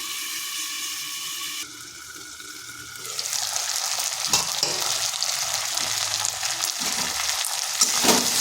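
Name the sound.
stirring and frying taro and fish in a pan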